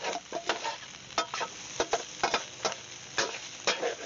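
Ground meat browning in a pan for loaded nachos, a steady close sizzle broken by repeated scraping stirs of the spatula at an irregular rhythm.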